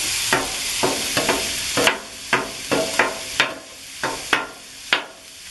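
Ground beef and onions sizzle on a griddle while a spatula scrapes and chops through them in repeated sharp strikes, about a dozen in an uneven rhythm over a steady frying hiss, close and loud, no talk.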